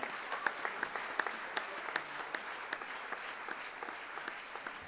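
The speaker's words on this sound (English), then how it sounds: "Let's give them a big round of applause, please" An audience at a sports awards event applauds its achievers, a steady, broad patter of many hands with a few sharper claps standing out, heard from some distance and fairly soft.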